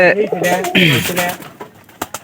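A domestic pigeon coos near a home loft, soft throaty calls in the first second followed by muffled knocks and rustling as someone talks close by.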